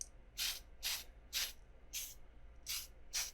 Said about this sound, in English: you want a nice even spray right here.